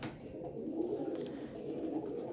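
Soft low cooing from a hobbyist's fancy pigeon with double-layered wing feathers rolls on steadily at close range over a faint background hum.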